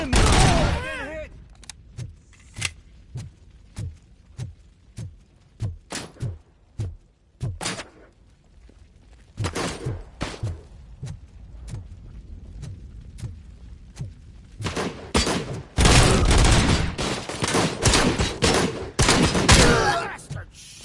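Repeated gunfire from the video game Robocop: Rogue City: single sharp shots, then dense bursts of rapid fire, loud and close, with voices in between.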